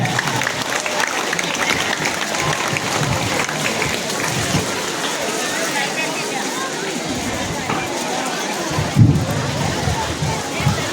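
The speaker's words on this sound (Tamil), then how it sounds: "அனைவரும் கொண்டாடுவோமாக கைத்தட்டி உற்சாகப்படுத்தி கொண்டாடலாமா" An audience at a school annual day function applauds in a steady, dense wash of clapping that carries on throughout, fairly loud and crowd-wide, with a brief louder knock near the end.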